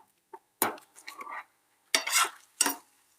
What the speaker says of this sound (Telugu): ఇలా లైట్గా సిమ్లో పెట్టుకుని కాసేపు ఒక 2 మినిట్స్ వేపుకుందాం